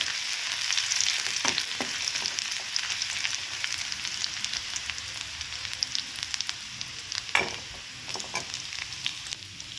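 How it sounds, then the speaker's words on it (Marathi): Crushed garlic sautés in hot oil until browned while cooking methi bhaji, a steady close sizzle and crackle with a few scrapes from stirring, no voices. "ठेचून घेतलेला टाकायचं आहे लसूण असं छान असं आपल्याला परतून घ्यायचं आहे ब्राऊन कलर येईपर्यंत"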